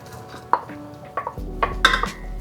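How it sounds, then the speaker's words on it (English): Chopped chocolate tipped into milk in a pan at home, with a few sharp clinks and taps of utensils and cookware, then a low hum, close and brief. "I'm just gonna add the chocolate into the milk."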